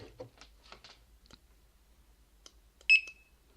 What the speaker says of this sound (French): je vais biper quelques codes barres.